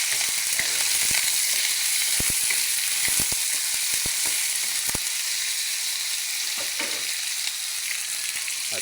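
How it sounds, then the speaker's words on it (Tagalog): Chicken wings frying with onions in hot oil make a loud, steady sizzle broken by crisp crackles and sharp spatter pops, most intense in the first half. "Pag ganyan na, isilagay na po natin. Uh, chicken wings."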